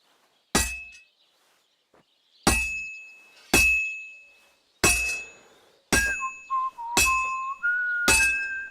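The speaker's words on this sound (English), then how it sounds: "Now take the hammer and try hitting it a few times." A hammer strikes a sword on an anvil in the Kingdom Come Deliverance 2 video game, seven sharp ringing metallic clangs spaced about a second apart, each decaying with a bright tone, alone and clear.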